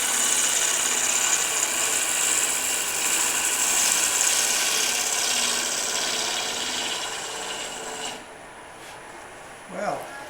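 A power tool carves a wood mushroom, grinding loudly and steadily with rough rasping as it bites into knots, then cutting off abruptly near the end, leaving a brief scrape in the quiet.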